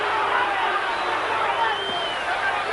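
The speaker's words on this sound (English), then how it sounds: "And some booing coming from the crowd." A boxing crowd at the 1987 Mike Tyson versus Bonecrusher Smith fight keeps up a steady, loud roar of booing and shouting, with no break, from start to finish.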